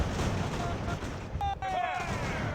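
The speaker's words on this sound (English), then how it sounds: "We've had one of our units rout already under the face of that withering cannon fire." Cannon fire rumbles from a Battle of Bunker Hill scenario in the video game Ultimate Admiral: Age of Sail, a dense, continuous roar of booming shots.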